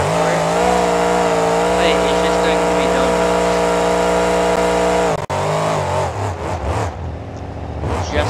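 Brodozer monster truck's engine in BeamNG.drive, roaring steadily as it spins donuts in a Monster Jam arena, then rising and falling in revs with tire noise, loud and continuous.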